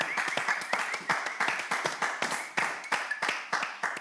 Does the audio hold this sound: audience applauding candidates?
yes